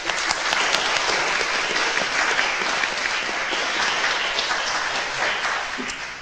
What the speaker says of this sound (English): Shall we have a round of applause for those interventions?